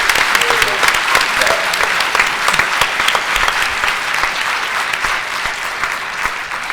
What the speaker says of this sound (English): can we give the 2 students a round of applause for joining us today?